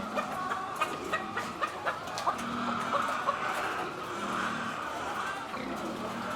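Chickens cluck and squawk intermittently at a moderate distance over a noisy outdoor farm background with pigs nearby, with faint voices now and then.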